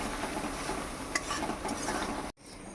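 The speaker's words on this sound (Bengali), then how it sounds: "এসব দিয়ে ভালো করে একটু কষিয়ে নিচ্ছি।" Spice paste with chili powder and turmeric sautéing in a pan, a steady close hiss of frying with a few faint stirring scrapes that cuts out abruptly near the end.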